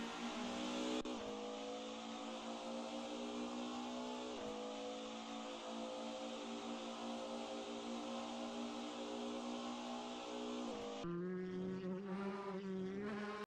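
A DTM race car in a classic-era sim racing game screams at high revs through the Bilstein Curve, its engine note holding steady with brief dips at gear changes, then shifting to a rougher, rising whine near the end.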